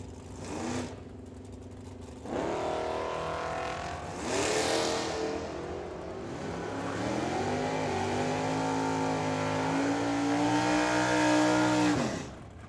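Drag racing cars, a 1970 Challenger and a Mustang, roar and rev at the strip in loud engine bursts that swell into a long sustained pull, heard from trackside.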